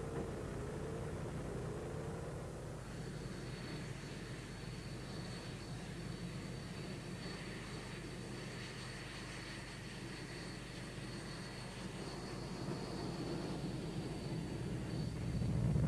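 A plane with its right engine losing revs during an aerial display drones steadily at a distance, a broad engine roar with a faint whine, swelling slightly toward the end.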